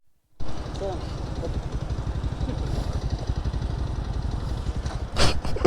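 Motorcycle riding on a highway near Munnar, its engine droning steadily and close with wind rush, while a rider's voice talks over it.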